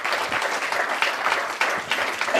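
An audience claps and applauds steadily, a dense wash of hand claps from a crowd, fairly loud and sustained throughout.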